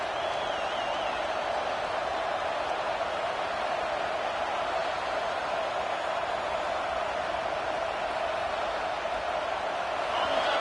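Dense, steady roar of a football stadium crowd at a college or pro game, loud and continuous throughout with no distinct voices standing out.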